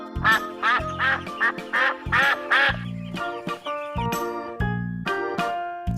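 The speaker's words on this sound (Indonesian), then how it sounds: "bebek," Duck quacking in a quick series of loud, close calls, with a steady musical backing underneath and no talk.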